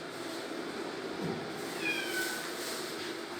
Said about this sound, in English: And there's the little cat outside